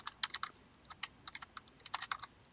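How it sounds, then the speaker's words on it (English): Numbers are being keyed in on a computer keyboard, a close, crisp run of separate taps in irregular clusters with short gaps. "So I'm going to type those numbers up down here."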